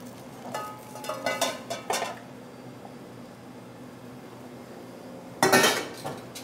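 Metal frying pans clank and clatter on a stove, with a burst of knocks early on, a quiet stretch, then another loud clatter near the end.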